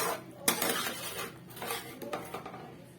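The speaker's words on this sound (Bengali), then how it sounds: "এবার টমেটো পেস্টটাকেও দিয়ে একটু আমি কষিয়ে নেবো যতক্ষণ না টমেটোর কাঁচা গন্ধটা যায়" Tomato paste and spices being sautéed in a pan for a cauliflower fish curry: a few sharp clinks and scrapes of a utensil against the pan, with a quieter sizzle underneath and no voices.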